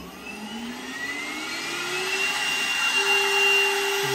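PWNCNC 1.5 kW 65 mm air spindle on a Mega V XL CNC machine spinning up toward 24,000 RPM, a smooth whine rising steadily in pitch and growing slightly louder, alone without talk.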